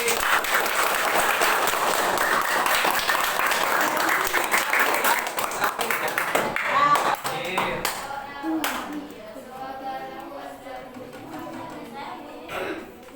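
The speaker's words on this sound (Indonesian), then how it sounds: "Yuk, tepuk tangan bagi" Classroom applause during a teacher performance test in Ambon, brisk group clapping for several seconds that fades into scattered claps, taps and voices.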